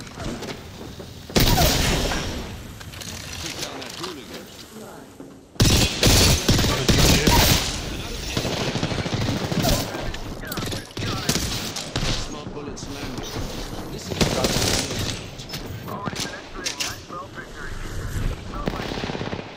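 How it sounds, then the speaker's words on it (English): Rapid bursts of gunfire from a shooting video game, machine-gun rattles and heavy booms firing in dense clusters, with players talking over the action throughout. "Get guns and shoot."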